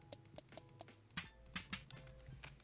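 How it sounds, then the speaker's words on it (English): Minecraft note block set on concrete powder, giving a snare tone: a series of short, crisp taps in a loose rhythm, some clustered, fairly faint over quiet game background. "A note block with a concrete powder below it has a snare sound."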